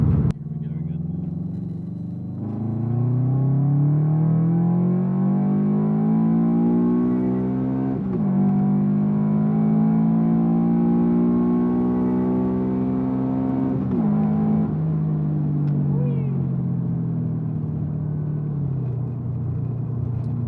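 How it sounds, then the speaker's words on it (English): Loud, rattly car engine accelerating up a freeway on-ramp, a droning roar that climbs steadily in pitch through several gear changes, then eases off near the end. "Your car's pretty loud."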